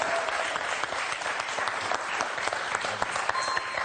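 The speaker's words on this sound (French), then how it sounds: "Personne vous applaudit, moi je vous applaudis en tout cas." Steady applause from the studio audience of the French TV quiz show Questions pour un champion, a dense even patter of many hands clapping continuously at moderate level.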